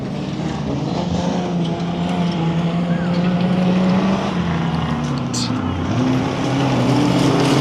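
An off-road rally car engine drones steadily at a stage event, its pitch rising and falling through gear changes, loud and continuous, with a voice talking over it.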